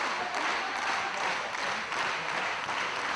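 Wrestling crowd at a live indie match cheering and urging a downed wrestler back to his feet, a steady, loud wash of applause and shouts that holds constant throughout without breaks.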